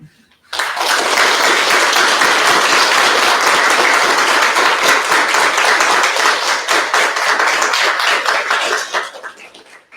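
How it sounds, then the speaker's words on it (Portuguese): A church congregation at a wedding service claps enthusiastically for the bride and groom, a loud, dense burst that starts abruptly, holds for several seconds, then tapers off. "nós os aplaudimos com muito entusiasmo"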